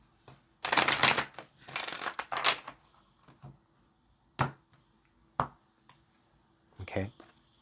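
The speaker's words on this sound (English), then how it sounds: "Let's get this last shuffle." A few bursts of tarot cards being riffled and shuffled close up, followed by several sharp taps and clicks as the deck is squared, with a voice speaking faintly.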